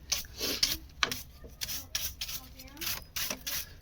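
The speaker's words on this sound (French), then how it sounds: "il faut toujours un petit coup de balai pour bien nettoyer l'emplacement du disque, l'emplacement des plaquettes" A brush scrubs dust from the brake disc and pad area of a Mini One D during a disc and pad change, making quiet, repeated rubbing strokes with faint talk in the background.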